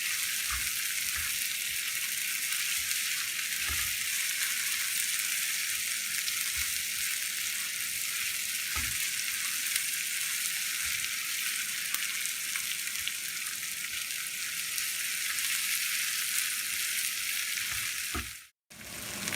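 Onions frying on high heat in a pan for a spicy chili paneer dish, a steady close sizzle and crackle running throughout with a few soft stirring knocks, cutting out briefly near the end.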